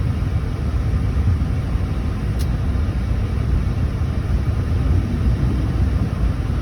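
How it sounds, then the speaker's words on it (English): Engine of a 2000-2006 Ford Escape idling after start, a steady low rumble heard from inside, constant and fairly loud with no change in pitch. "Such a good running engine too."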